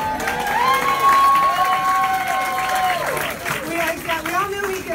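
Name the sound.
crowd cheering and applauding at campaign kickoff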